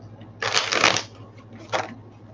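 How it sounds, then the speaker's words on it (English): Tarot cards being shuffled in two bursts, a longer riffling flutter followed by a shorter one, close and fairly loud against a quiet background. "I will throw some cards and"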